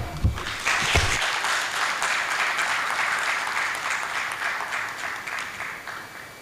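A symposium audience on technology, security and development breaks into a round of applause that starts sharply and holds as a dense, fairly loud wash of clapping, tapering only slightly toward the end.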